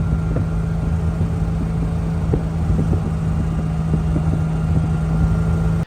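A Classic Mini engine droning steadily while driving at night, a constant low hum with a fixed tone and faint ticks throughout, ending abruptly.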